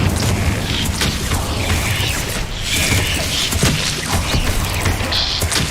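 Magical fire spells are cast repeatedly in the game Hogwarts Legacy, giving steady booming, crackling bursts and sharp thuds over a dense, loud game soundscape with no talking.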